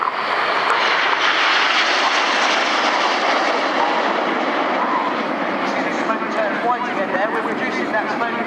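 Red Arrows jet aircraft flying a display at the 2013 Swansea Airshow, a loud, continuous broadband roar sustained across the whole stretch with no letup.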